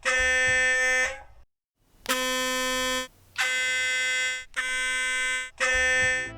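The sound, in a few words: sonic toothbrush recorded inside washing machine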